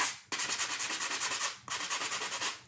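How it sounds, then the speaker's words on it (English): Steady rasping strokes of a sanding block rubbing back and forth along the back edges of a DIY Christmas ornament, rhythmic and close, with a brief pause before the scraping resumes. "I have a sanding block here that I'm just going to sand off these edges from the back"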